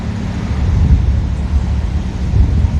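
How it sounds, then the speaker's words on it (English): Strong wind blows outdoors beside a road and buffets the microphone. It makes a steady, loud, low roaring rush that swells and eases slightly, and no other sounds are clearly heard. "Very windy out here."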